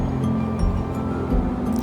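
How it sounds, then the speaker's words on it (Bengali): Fritters (bora) drop into hot oil and fry, a dense, close bubbling sizzle with a few soft splashes and pops that holds steady throughout. "আমি বড়াগুলো তাড়াতাড়ি করে তেলের মধ্যে ছেড়ে দিচ্ছি"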